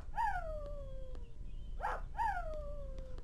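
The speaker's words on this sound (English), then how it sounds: "It's the annoyingest dog noise in the world." A cartoon dog in the Family Guy Online video game lets out two drawn-out, falling howl-like yowls, fairly loud and close, with a short yelp between them.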